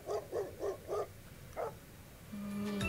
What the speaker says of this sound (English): So the answer was Dog barking.